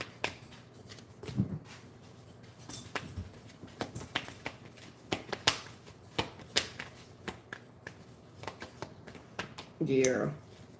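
Tarot cards being shuffled by hand nearby, a run of crisp, irregular riffles and taps at a modest level, with a brief vocal sound near the end.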